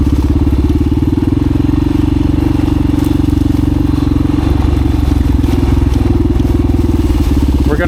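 A vintage 1985 Honda XR350R motorcycle runs up close with a loud, steady thumping single-cylinder engine beat, trail noise clattering under it.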